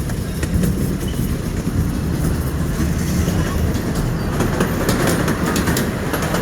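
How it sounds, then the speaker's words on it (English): Amusement park train ride at Knoebels rumbles along with steady, loud clickety-clack from the wheels and faint rattling, heard from on board. "We're on the train now."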